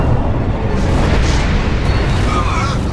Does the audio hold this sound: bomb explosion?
yes